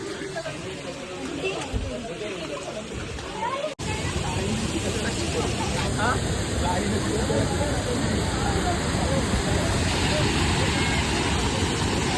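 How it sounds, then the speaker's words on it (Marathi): Forceful rushing water pouring down from above near Lonavla, a steady broadband roar filling the scene throughout with a brief cut near the start, crowd chatter faint beneath it. "समोर पाणी वाढली किती फोर्सने ते एकदम वरतून काय माहिती आवाज ऐकायला येतो ना तुम्हाला"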